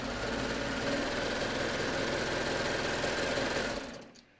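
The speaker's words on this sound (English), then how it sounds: "So I'm just going to sew these two together." A sewing machine stitches the side seams of a knit raglan top with a steady, close, rapid mechanical whirring, running evenly for about four seconds before it winds down and stops.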